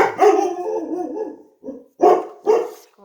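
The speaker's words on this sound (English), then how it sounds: "Sorry, my dogs are going nuts" Several household dogs barking and howling up close, one drawn-out howling bark followed by a few sharp, loud barks in quick succession.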